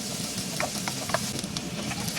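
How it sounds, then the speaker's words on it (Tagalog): Garlic and onion sautéing in hot cooking oil in a pan, a steady close sizzle with soft stirring clinks and scrapes throughout, no voices. "nag-init lang ako ng mantika. Tapos, igigisa ko na rin ng bawang at sibuyas"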